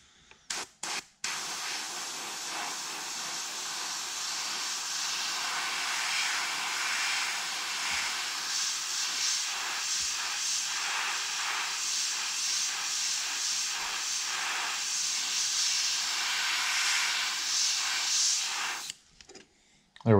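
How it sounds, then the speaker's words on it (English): Airbrush hissing white paint onto the gill area of a handmade wooden muskie crankbait, a steady airy spray held for most of the stretch with brief short bursts at the start and end. "I'm just going to define the gills right here with a really nice light spritz of white."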